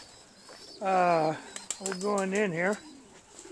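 Young pigeons in a loft give two bursts of soft, throaty cooing close by, with a wing flutter between them, while someone speaks briefly.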